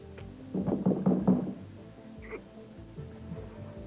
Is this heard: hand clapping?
no